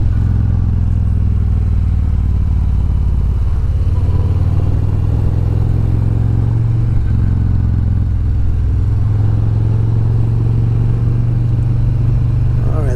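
A 2020 Harley-Davidson with a slip-on exhaust held at about 3,000 rpm in third gear, a loud, steady low engine drone close by that swells slightly in places, with some faint talk underneath.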